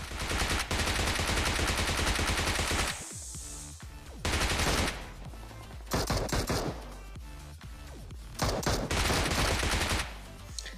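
Gunfire in the PUBG Mobile game, long loud bursts of rapid automatic shots separated by brief pauses, close and dense throughout.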